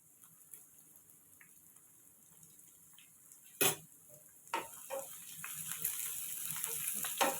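Sliced onions hitting hot oil in a pan for a Telugu amaranth-leaf stir fry: near silence, then sharp crackles and a sizzle that builds to a steady, close hiss, with a few light utensil clicks and no talking.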